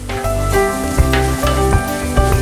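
A mixture for mushroom soup sizzles loudly in a pan while being stirred, with a constant close frying hiss broken by a few scraping strokes of the spoon.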